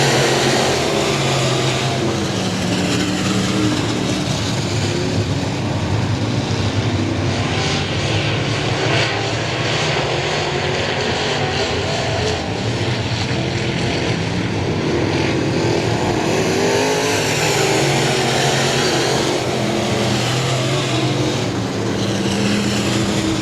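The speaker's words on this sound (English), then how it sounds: "Power up those engines, roaring at you." IMCA modified race car engines roar together on a restart at I-37 Speedway, a loud, continuous, dense engine drone that sustains throughout with no speech over it.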